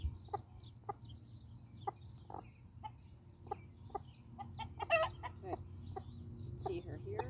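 An American Bresse hen clucks in short, agitated bursts while being handled, with a sharper squawk partway through, over low background noise.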